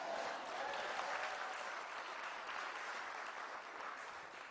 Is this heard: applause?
yes